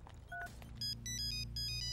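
An electronic phone ringtone chimes in a repeating pattern of bright tones, fairly close, with low background hum and no talking.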